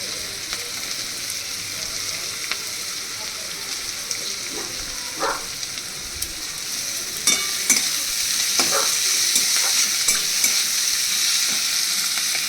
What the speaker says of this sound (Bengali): এবার আমি এর মধ্যে দিয়ে দিচ্ছি রসুনগুলো।